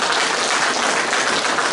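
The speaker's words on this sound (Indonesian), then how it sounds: "Berikan tepuk tangan bagi Tuhan." Steady applause fills a church during a Good Friday sermon, a dense wash of clapping that runs unbroken at an even, fairly loud level with no talking over it.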